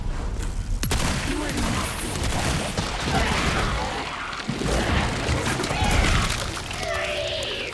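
Heavy gunfire from a powerful upgraded gun in the video game Resident Evil 4, loud booming blasts and crashes layered over dense game action, continuous throughout with no break.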